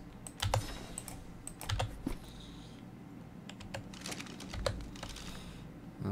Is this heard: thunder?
no